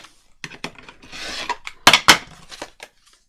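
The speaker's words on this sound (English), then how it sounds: "I'm going to cut it off above the flap." A cutting tool saws off a piece of material above a flap in a short crafting job, heard as a few close rasping strokes with sharp scraping bursts near the end.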